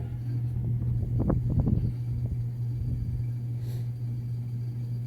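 Samsung washing machine running before its spin cycle, a steady low hum and rumble with a brief burst of sloshing, churning thumps early on, continuing evenly afterward.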